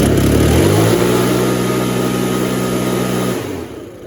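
A Makita RedMax EB7660TH four-stroke backpack blower engine revs loud and steady at full throttle, slightly bogging while not fully warmed up, with a sustained droning tone that drops off near the end.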